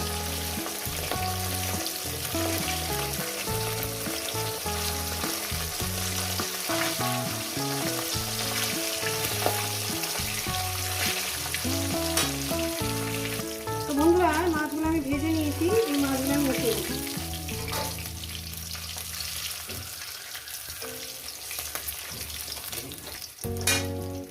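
Pieces of rohu fish sizzle and crackle in hot oil for a curry with potatoes, a steady loud frying hiss with bursts of stirring and a brief splash of running water near the end.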